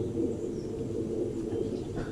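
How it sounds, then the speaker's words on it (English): Soft bird calls, cooing and faint chirps, drift in from a distance over a low outdoor background, with no talking. "We hear birds."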